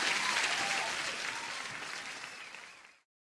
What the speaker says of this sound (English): You deserve the applause.